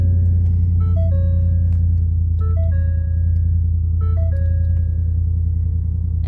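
A Ford F-150 Roush pickup idles with a loud, steady low engine rumble close by, while a series of electronic chime tones repeats over it several times.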